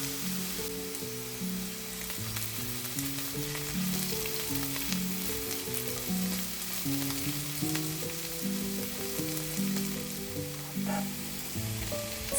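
Cooked rice being stirred into vegetables in a hot frying pan, a steady loud sizzle with scraping stirs, heard under continuous background music.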